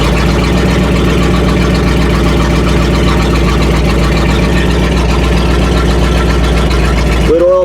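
A 1959 Ford F250 4x4 with a 352 V8 runs loud and steady at a rough, throbbing idle close by, before cutting off abruptly near the end.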